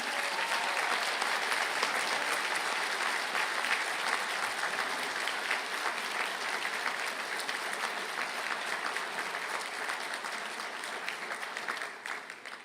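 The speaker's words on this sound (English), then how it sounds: "stand for a round of applause" Long, steady applause from a large audience for civil engineering graduates at a university conferring ceremony, even and full throughout and tapering slightly at the end.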